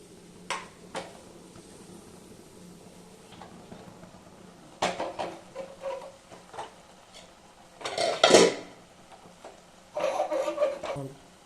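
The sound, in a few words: mashing cooked gongura leaves in a clay pot on the stove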